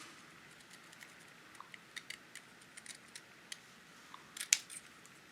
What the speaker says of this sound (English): Just trimming it up as close as I can.